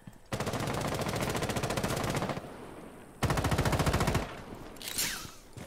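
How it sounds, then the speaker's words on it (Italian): Automatic weapon fire in the tactical shooter game Rainbow Six: two long, dense bursts of rapid shots, the second after a short pause, loud and close, followed by a fainter whooshing sound. "Qua che sparano, sì."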